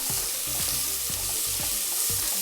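Sliced onions sautéing in hot oil give a steady, close sizzle with soft rhythmic scrapes of stirring every half second or so, no talking.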